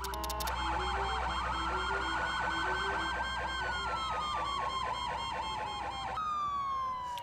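A police car siren in the Oxford City video game wails loud and continuously, sweeping slowly up and down in pitch during a bank robbery call.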